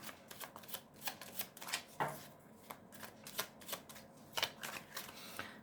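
A tarot card deck being shuffled close by, with a steady series of soft riffling flicks and small taps, faint and without talk.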